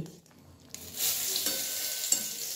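Ghee hits hot moong dal cooked with bottle gourd and gives a sudden sizzle, followed by continuous frying crackle and stirring noises. The sound is close and moderately loud, with no talking.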